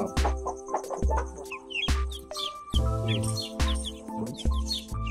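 Aseel chicks and poultry call: repeated low clucks with high chirps and tweets scattered over them, fairly close, in an irregular rhythm with no talking.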